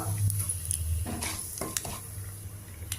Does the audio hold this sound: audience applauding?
no